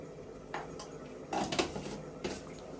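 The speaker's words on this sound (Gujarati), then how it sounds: "મારા માટે ખીચડી વઘારે છે." Pots and utensils clatter in a home kitchen as khichdi is tempered, with a few scattered metallic clinks and knocks standing out over a steady low background hum.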